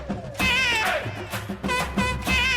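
A cartoon cat meows in a Hindi kids' comedy, several drawn-out, wavering mews about a second apart, loud and close, with some background sound between them.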